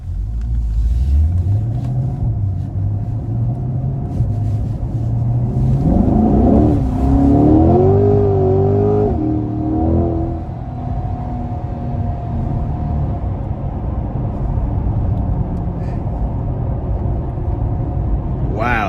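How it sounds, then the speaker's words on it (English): A 2022 Chevrolet Corvette C8 Stingray 3LT Z51 convertible heard from inside on a road drive, its engine rumbling steadily and then rising in pitch as it accelerates, with a continuous loud drone throughout. "take this 2022 Corvette 3LT Z51 Stingray out on the"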